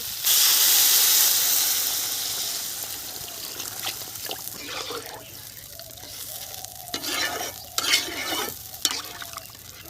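Water poured onto fried ground spices in a pan for a village-style fish curry gives a loud, sharp burst of steaming hiss. It fades into quieter bubbling sizzle, with several close stirring scrapes.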